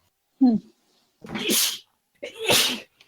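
Two sharp sneezes a second apart, close and fairly loud, following a brief voice.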